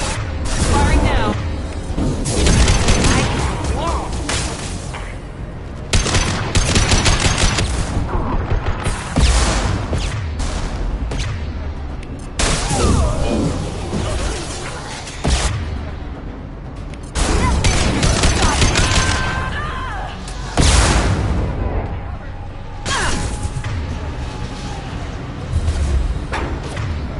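Gunfire and explosions in the video game Mass Effect 2, loud bursts of shots and booms in repeated waves with brief lulls, and voices speaking over the combat.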